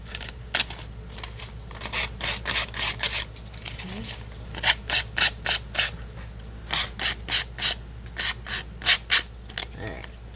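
An older, worn file rasps along the paper edges of an altered playing card in close, steady back-and-forth strokes, grouped in rhythmic bursts of quick scrapes with short pauses between them, over a low background hum.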